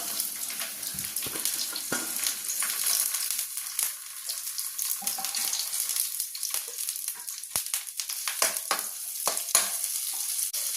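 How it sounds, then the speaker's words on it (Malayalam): Coconut pieces fry in about two spoons of oil in a pan for a curry, giving a steady close sizzle with crackling pops and a few scraping stirs, no voices. "അതിലേക്ക് ഒരു 2 സ്പൂൺ എണ്ണ ഒഴിച്ചു കൊടുക്കുകയാണ്. അതിലേക്ക് നമുക്ക് ഈ തേങ്ങ പീസൊന്ന് വറുത്തെടുക്കണം."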